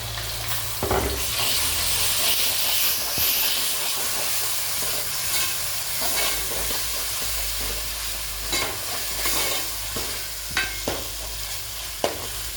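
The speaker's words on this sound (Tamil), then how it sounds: "வெங்காயம் நல்லா வதங்கிடுச்சு. இப்போ வந்து இதிலே பூண்டு, பச்சை மிளகா, மசாலாலாம் அதை வச்சு வச்சுக்கோங்க." Onions sizzle loudly in a pan with garlic, green chili and masala for a chicken masala. The hiss is steady and close, broken by a few sharp clinks from a spatula as the mix is stirred.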